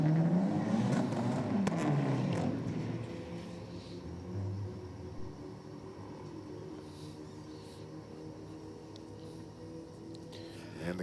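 A Volkswagen Golf drag car makes its run: a loud engine roar at the start fades into a steady, more distant drone that carries on for several seconds.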